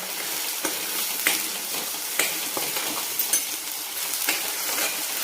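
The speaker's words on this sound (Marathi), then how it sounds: "हे जे वाटण केलेलं आहे ना, हे वाटण टाकायचं आहे आपल्याला. आणि छान मिक्स करून घ्यायचं आहे." Ground masala paste for mutton curry fries in a pan, giving a steady close sizzle with intermittent stirring scrapes and clicks and no voices.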